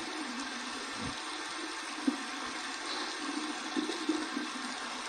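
Cold tap water running over an alum block at a bathroom sink, a steady soft splashing stream, close but quiet, with a few faint knocks and no talk.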